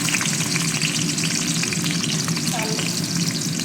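Vegetables and curry leaves with green chillies fry in hot oil in a pan, giving a dense, steady crackling sizzle with occasional stirring scrapes, close and continuous throughout.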